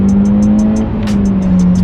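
Petrol Seat Cupra engine held at high, steady revs on a dynamometer, a loud continuous drone with a slight pitch shift midway and a sharp rhythmic ticking layered above it.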